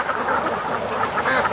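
Ducks raised in an outdoor pen quacking in a rapid, raspy run of close calls, fairly loud with no talk.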